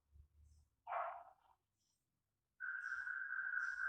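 A dog named Moti gives a short, quiet bark followed by a pause, then a longer, drawn-out tonal yelp, with nothing else heard.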